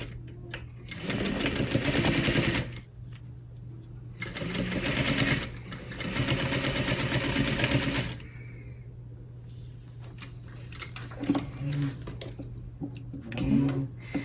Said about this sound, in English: I'm going to sew through all those layers right here.